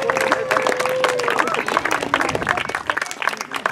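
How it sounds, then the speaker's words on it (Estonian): Applause rings out for the winning men's team at the 2016 Haapsalu triathlon, dense, continuous clapping from a crowd, with an announcer's voice faintly under it. "Aplaus Läänemaa meestele."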